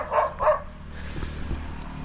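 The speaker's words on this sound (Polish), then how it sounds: "Czego na mnie szczekasz?" A dog gives two quick, close barks at the start, followed by quieter rustling and low background noise.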